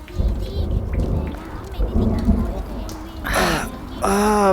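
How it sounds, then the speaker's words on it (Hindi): Heavy rain falls with rumbles of thunder during a city outing, a steady roaring downpour with low booming swells, while people talk and exclaim over it. "बारिश को भी आज ही आनी थी"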